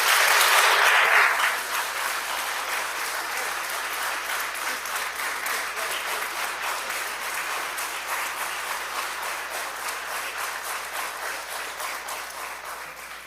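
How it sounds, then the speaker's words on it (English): Sustained applause fills a state House chamber during a legislative floor session, starting loud and dense, then settling into a steady, even clapping that continues for over ten seconds with no voices over it. "Let's give this great family, y'all, a really good round of applause on his achievement."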